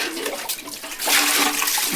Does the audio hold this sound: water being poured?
yes